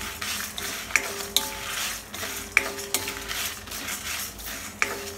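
Sambar and rasam spice powder ingredients dry-roasting in a pan, stirred with a metal spatula that clinks and scrapes against the pan every second or so over a low, even hiss, close and clear with no talking.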